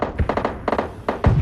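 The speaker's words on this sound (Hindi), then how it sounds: "और तुम लेफ्ट में फायरिंग की आवाज सुनो A4 से।" Gunfire in a mobile battle royale match, a few close, punchy shots in quick bursts with short gaps between them.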